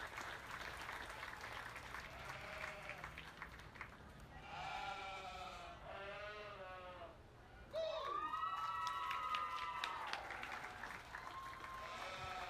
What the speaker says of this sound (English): Give them another round of applause and I'll get your champions.